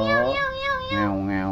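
Hill myna mimicking a cat's meow, a couple of drawn-out, tonal mews with strong harmonics, close and clear with no other voices.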